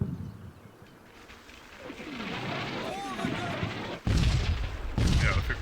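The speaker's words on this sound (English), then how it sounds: "except we're being shelled" Artillery shelling in the WWII strategy game Combat Mission, heavy shell impacts thudding and rumbling at varying distance, with a sharp close blast about four seconds in and another near the end, alongside broadband battlefield noise and a voice talking.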